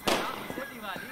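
Firecrackers burst during a festive Diwali-style gathering in a Hindi film scene: one sharp crack up front, followed by fainter pops and crackle, with voices talking over the noise.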